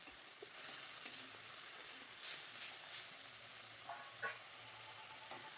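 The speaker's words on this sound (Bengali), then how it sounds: "এবার এটাকে আমি একটু খানিকটা ভাজবো যতক্ষণ না তেলটা আলাদা হয়ে যায়।" Masala sizzles steadily in hot oil for Bengali rui fish kalia, with turmeric and green chillies in the pan. The frying hiss runs continuously, broken by a few soft stirring scrapes and small crackles.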